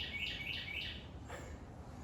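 Three quick, bright bird chirps repeat in a row, fairly faint against a quiet outdoor background, followed by a softer call.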